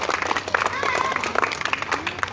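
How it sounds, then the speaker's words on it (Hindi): Hearty applause from a gathered crowd at a charity event for poor children's education in India, clapping mixed with voices and chatter, busy and fairly close throughout. "इनके लिए जोरदार तालियां बजा देते हैं"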